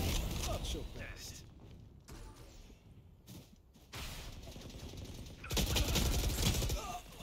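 Gunfire in a video game, with bursts of rapid shots in separate stretches alongside game noise and a voice speaking in places.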